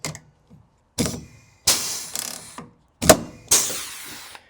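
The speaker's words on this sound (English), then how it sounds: "So let's get the old rivet gun out, and I've got some stainless rivets." Pneumatic rivet gun setting stainless rivets into a Land Rover Series 2A rear door, firing in about five sharp separate bursts with short gaps between them, close and fairly loud with no talking.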